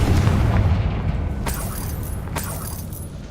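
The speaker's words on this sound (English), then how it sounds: "Confringo!" A Confringo fire spell explodes in the video game Hogwarts Legacy with a deep rumbling boom at the start that fades, followed by two sharp crackling bursts, without any speech.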